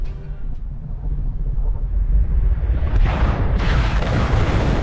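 An AI-generated explosion sound effect, made with OpenArt's auto sound, starts as a deep, loud rumble that swells and brightens into a roaring blast, then cuts off abruptly at the end.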